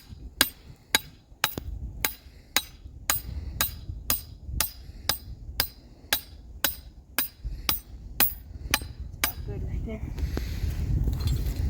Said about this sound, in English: take this, put it through here, just hammer it down